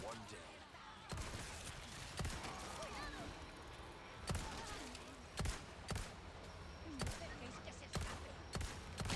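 Matilda handgun from Resident Evil 4 firing in repeated three-round bursts, sharp cracks spaced every second or two over a busy game ambience, moderately loud and close.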